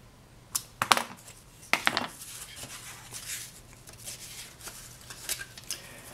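Scissors trimming fabric for a folio: a few quiet, sharp snips and clicks near the start, then softer rustling and handling noises, faint and close.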